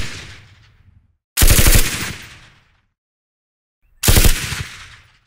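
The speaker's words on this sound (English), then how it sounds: "lots and lots of processed gunfire sound effects, like this massive set here for the M249" Processed M249 machine gun sound effects: two heavy, full-bodied bursts of rapid automatic fire, each cutting in loud and close before tailing off into a decaying echo, with silence between them.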